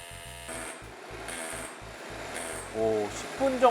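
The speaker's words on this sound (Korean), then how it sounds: "이제부터 철근을 한번 뚫어보겠습니다" A DeWalt drill bit bores into steel rebar with a faint, steady power-tool whine and grinding, mixed under background music that gets louder toward the end.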